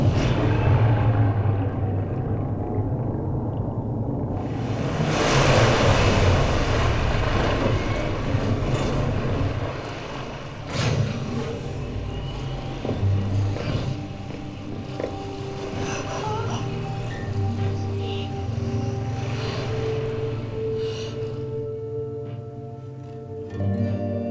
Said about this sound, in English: In the background, you just hear a faint exhaust.